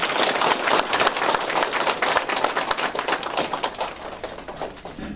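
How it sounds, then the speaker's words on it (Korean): An audience at a National Assembly member's constituency report meeting in Muan gives a speaker a loud welcome with brisk, dense clapping that swells, then gradually thins out. "큰 박수로 환영해 주시기 바랍니다"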